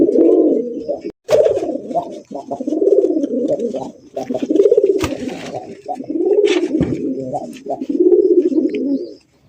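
Old-breed black Golla pigeons coo in repeated rolling phrases, loud and close, with brief pauses between the calls and no talk over them.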